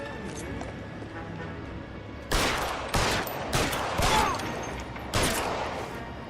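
Gunfire in a shootout in the video game L.A. Noire: after a stretch of quieter background, five loud, sharp shots crack out at irregular intervals, each with a brief tail.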